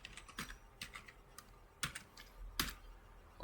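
Keystrokes on a computer keyboard as a password is entered, a handful of separate taps spread unevenly with a couple of sharper, louder strikes, set against a steady low background hum with no voices.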